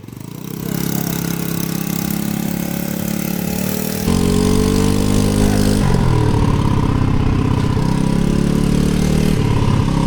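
A motorcycle engine catches and settles into a steady, loud idle, a continuous close mechanical hum whose tone shifts slightly a few times with throttle changes.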